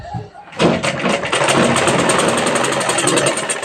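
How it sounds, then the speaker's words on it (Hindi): A sewing machine stitching a blouse starts up and runs at a steady rapid pace, producing a loud, close, rhythmic mechanical whir with no talking. "अब हम इस पर बराबर रखकर सिलाई लगा देंगे"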